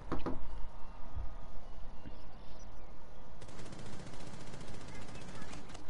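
Rapid gunfire and sharp impact bursts from a competitive PS4 tactical shooter match, loud and close, with a player's voice talking over the shots.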